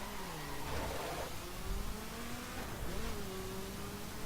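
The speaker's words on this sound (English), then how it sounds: "now we are taking up the 2013 Viper GTS. 3, 2, 1, go." A 2013 Dodge Viper GTS launches from the bottom of Pikes Peak in The Crew, its engine note climbing steadily through a continuous, rising rev with shifts, moderately loud and alone.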